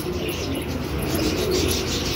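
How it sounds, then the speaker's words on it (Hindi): A lot of Girebaaz pigeons cooing in a pet store in Hyderabad, a steady, dense murmur of soft coos and chirps with constant background noise and no talking. "देखिए सारे कबूतर एक साथ बता रहा हूँ मैं"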